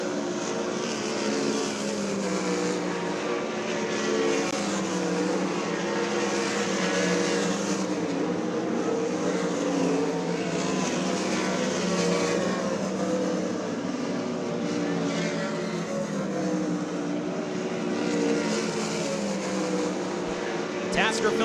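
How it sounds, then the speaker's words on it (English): Randall Roofing 360 sprint cars roar continuously around Knoxville Raceway during hot laps at a USAC Corn Belt Clash event, a dense, sustained engine drone rising and falling as the cars circle at a distance. "Your third session of hot laps for your Randall Roofing 360 Sprint Cars is green."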